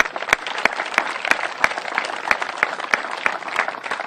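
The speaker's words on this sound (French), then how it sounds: "Sous vos applaudissements, bien sûr." Applause from a gathered outdoor crowd at a sign unveiling ceremony, steady sustained clapping of moderate loudness with a few sharper individual claps standing out, lasting about four seconds.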